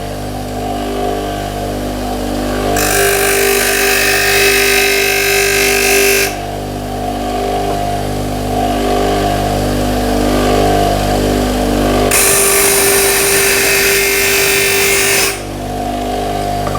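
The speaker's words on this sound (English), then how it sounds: "we're just going to use the edge of the wheel to take away an even amount each time" A grinding wheel hums steadily while a steel graver is pressed to its edge in two long, loud, hissing grinding bursts of a few seconds each, with the motor continuing between them.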